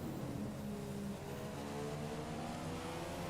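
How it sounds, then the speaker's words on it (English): A Formula 1 race car in the F1 2015 video game runs at a steady high-pitched engine drone, continuous and fairly loud, with no talk. "easy to get past this GP2 engine that Alonso's driving with"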